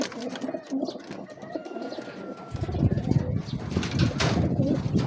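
Pigeons coo steadily nearby, soft throaty calls repeating over a busy background of other birds.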